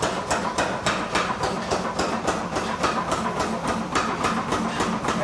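Metal spoons are shaped under a rapid power hammer beside a small furnace, a fast, regular train of sharp metallic blows, close and loud, running continuously and alone without voices.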